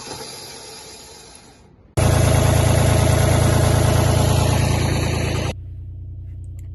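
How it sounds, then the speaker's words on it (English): A hot-wired cherry picker engine on a farm idles, then surges into a loud, steady roar for a few seconds before dropping back to a lower idle. No one speaks. "Cherry picker wouldn't start, something wrong with the electric, so we just sort of hot wired it to get it running"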